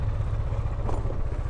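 A motorcycle engine chugs steadily nearby as it arrives, a low, even throbbing that fills the short moment.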